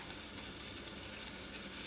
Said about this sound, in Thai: น้ำเดือดแล้วค่ะ